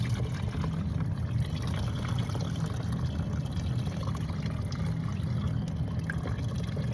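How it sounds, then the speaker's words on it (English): Water is poured into a collapsible bucket in a steady, low gurgling stream with faint trickling, continuous and close, with no talking. "dumping the water into here."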